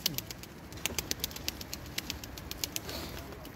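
Tumbler pigeons in a coop, with soft coos and rhythmic pecking or tapping heard close by and fairly faint against a quiet background.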